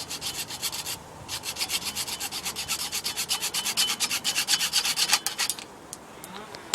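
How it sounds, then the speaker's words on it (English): A hand saw cuts through a part for a homemade BB gun in quick, regular back-and-forth strokes that rasp steadily and fairly close before stopping near the end. "you get your saw and you cut it. Quite hard to cut it"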